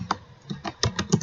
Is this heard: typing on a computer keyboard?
yes